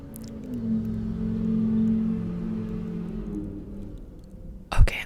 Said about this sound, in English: It really sounds like that truck is just going around in circles really, really fast.